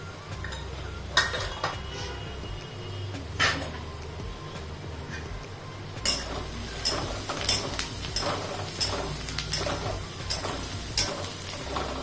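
Onions sautéing with turmeric in a pan, with a low steady sizzle under repeated clinks and scrapes of a spoon against the metal, growing busier in the second half.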